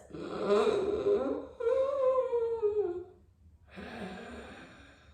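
Vocalised ocean breathing exercise, a person breathing with voiced, throaty rushing sounds: two long breaths, a short pause, then a softer third breath, close and alone.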